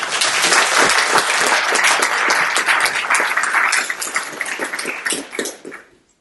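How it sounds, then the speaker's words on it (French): An audience applauds the jury president at the Diderot prize ceremony, with loud, dense clapping across a full hall that holds steady and then fades out over about six seconds. "On l'applaudit."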